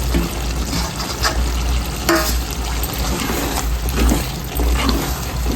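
Potato curry fries in a pan as coriander and curry leaves are added, giving a loud, continuous bubbling sizzle with occasional stirring scrapes and no voices.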